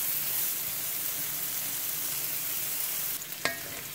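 Carrots and other vegetables sauteing in butter in a pot make a steady, close sizzle throughout, broken near the end by a clink and a scrape of stirring, with no talk.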